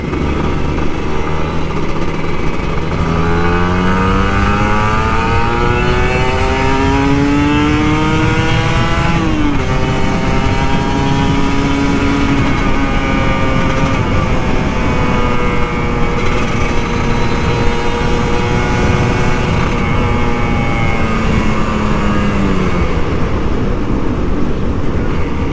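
Kawasaki Ninja RR 150 two-stroke motorcycle engine, older model, ridden home from the office in the rain with light throttle: a steady close buzzing engine whose pitch rises and falls through gentle gear changes over wet-road noise.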